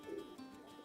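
A pigeon coos softly in a brief, low, throaty burble, close but quiet, with nothing else heard.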